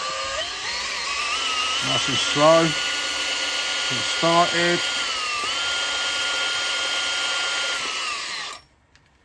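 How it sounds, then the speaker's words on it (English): A power drill with a brad point bit whirs steadily into wood for several seconds, with brief spoken words over it, before the motor cuts off abruptly near the end. "So that's where I'm going to drill, right there."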